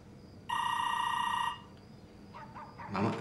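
A telephone bell rings once in a steady, loud electronic trill lasting about a second, followed by quieter shuffling and a brief thump in an indoor room.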